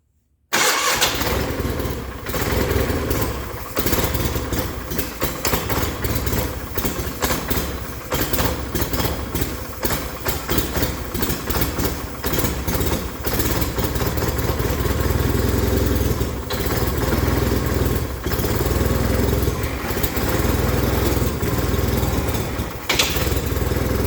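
A 1989 John Deere 420 garden tractor engine runs loud and steady for the whole stretch, settling into a continuous idle after a quick start with no talking over it.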